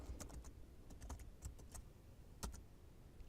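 Someone types a password on a computer keyboard: a quiet, close run of irregular key clicks, a few quick taps in clusters, with no talking.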